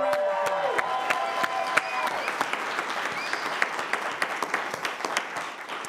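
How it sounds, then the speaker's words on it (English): Audience applause at a live late-night talk show, a dense steady clapping that carries on throughout with sharper individual claps standing out, and a brief tonal sound fading early on. "So give yourselves a round of applause."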